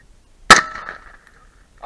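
A single sharp gunshot fired at a target outdoors, a loud crack with a short ringing decay, heard alone with no talk.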